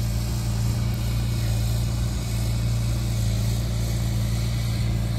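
A tractor plowing a field for planting drones with a steady, low engine hum and a faint rattle that stays even and close, with no voices.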